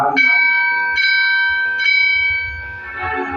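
A bright metal temple bell struck three times at a steady pace, each ring lingering and fading, followed by a soft low rumble.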